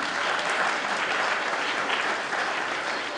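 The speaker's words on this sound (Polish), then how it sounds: "Mogą być brawa." An audience breaks into steady, dense applause that fills the whole short stretch with no pause.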